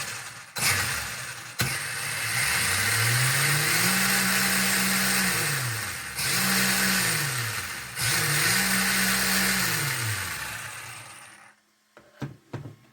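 A WLtoys WR8 or HSP RC car motor whines loudly and close, winding up and holding high in three bursts with brief drops between, then cutting off near the end, with no talking.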